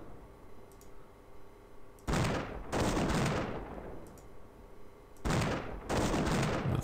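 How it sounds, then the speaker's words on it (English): Artillery bombardment in the strategy game Imperialism: two pairs of loud, roaring barrage blasts, each burst sustained and decaying, separated by a quieter stretch, with no voices. "Let's bombard him to death."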